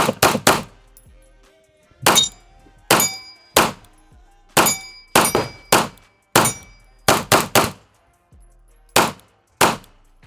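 Pistol shots from a Staccato P fired at an outdoor range, loud, sharp, ringing reports in quick pairs and triplets with short pauses between strings, about twenty shots in all, with no talking.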